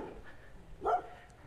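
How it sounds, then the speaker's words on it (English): An excited dog barks once, a single short bark at moderate distance on a quiet road in the Reparto Belén neighbourhood of Nicaragua, with faint background sound around it. "Oh, this dog is hilarious. He's really excited."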